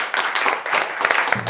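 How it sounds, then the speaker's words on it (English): Studio audience applause on a children's spelling-champion quiz show, a short, moderately loud burst of many hands clapping unevenly without a pause. "Another round of applause."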